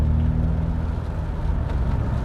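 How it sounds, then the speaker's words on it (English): A 2019 Mini Clubman John Cooper Works exhaust note, a loud steady low engine drone heard close, with a fruity tone and no talking. "The exhaust always sounds fruity. You get a nice few burbles and pops."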